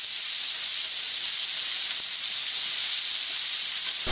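Tomatoes sizzle in a pan with sautéed garlic and onion for a Filipino ginisang ampalaya, a steady, close, even hiss of frying that runs unbroken with no talking.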